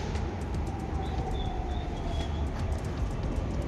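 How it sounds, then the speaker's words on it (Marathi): An underground metro train in Pune rumbles steadily inside the station, loud and continuous, with a faint high whine. "नाईस. Underground metro."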